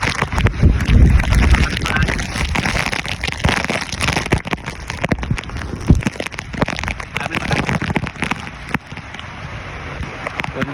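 Typhoon Uwan sweeps the Bicol region with strong wind and heavy rain, loud, gusting roar and dense pelting of rain on surfaces close to the microphone, surging and easing in waves, with wind buffeting the mic throughout.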